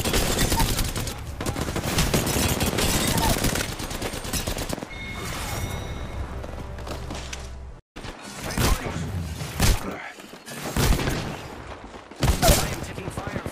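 Dense automatic gunfire in Apex Legends rattles almost continuously at first, then breaks into bursts and heavy thumping shots after a brief gap, with voices talking over the fighting at times.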